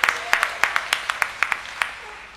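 A church congregation claps in welcome, a run of sharp, evenly spaced hand claps that comes across as a thin, scattered round of applause rather than a dense ovation, with no talk over it.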